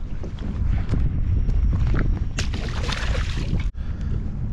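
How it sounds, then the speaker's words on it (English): Wind buffeting a microphone out on open water during kayak fishing off Montauk, a steady loud rushing roar with gusty swells and brief splashy knocks, no talking. "this wind is definitely cranking up"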